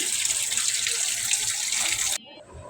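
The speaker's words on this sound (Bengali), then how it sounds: "তাজা তাজা মাছ ধুয়ে নিচ্ছি" Fresh fish being rinsed under a running kitchen tap, a steady close rushing splash of water that cuts off abruptly near the end, leaving a quieter trickle.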